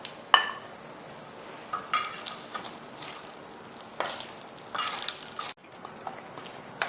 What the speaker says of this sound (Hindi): दोनों साइड से ना ये फ्राई हो गए हैं कबाब। अब हम इसको निकाल लेते हैं।